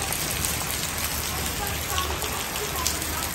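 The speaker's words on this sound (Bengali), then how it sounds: "প্রচুর বৃষ্টি হচ্ছে বাইরে।" Heavy, steady rain pours outside onto plants and surfaces, a dense unbroken patter and hiss that stays loud throughout, with a voice faintly present beneath it.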